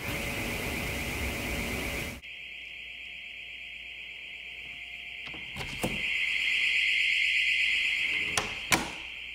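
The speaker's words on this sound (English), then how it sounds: "how loud that door alarm is that's on the edge of this freezer" A Fridggi freezer door alarm on a freezer's edge sounds a steady, piercing electronic tone continuously, with a few sharp knocks and clunks partway through.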